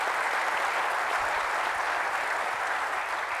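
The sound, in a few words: audience applause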